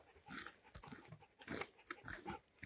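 Dogs scuffling and growling as they play-fight on an outdoor hike: faint, irregular bursts of growls, snorts and rough tussling noises with no one talking.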